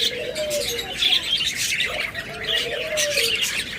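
A pair of albino pet birds, kept among lovebirds, cockatiels and budgerigars, call with repeated shrill squawks and chirps, loud and close, over a steady background chatter of other caged birds.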